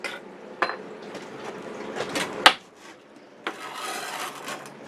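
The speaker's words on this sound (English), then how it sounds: "See how that trowel went like that without catching on nothing?" A trowel scrapes and smooths a surface during work on a house, making soft intermittent rasping strokes with a sharp knock partway through, close by and fairly quiet.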